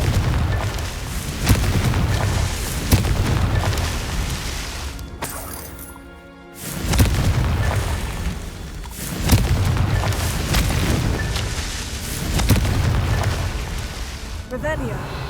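Fiery Confringo spell blasts from Hogwarts Legacy on PS5 go off as a series of heavy booming explosions, four or five deep hits with rumbling tails and a short quiet gap between two of them.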